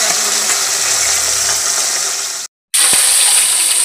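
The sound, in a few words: fish frying in oil in a wok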